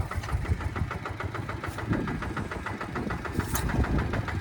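A small Kubota KRT140 4x4 walking tractor, weighted at the rear, runs steadily while plowing a rice field; its engine knocks in a fast, even rhythm, loud and close throughout with no talk.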